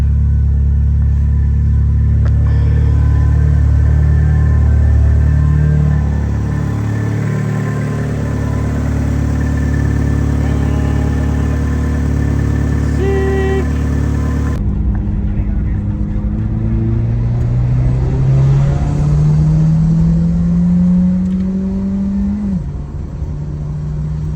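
A first-generation Eagle Talon converted to speed density cranks and fires up, then settles into a steady rumbling idle up close, with a rising pitch sweep near the end as the revs change.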